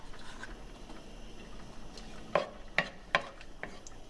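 Garlic browning in a pan for a pasta sauce: a low, steady sizzle, with a few sharp, close clicks or taps of a utensil against the pan near the end.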